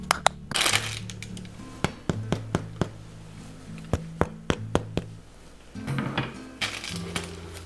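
Crust of freshly baked, almost no-effort baguettes crackling as the loaves cool, heard as a scatter of sharp, close crisp snaps and ticks at irregular intervals over a low steady background hum.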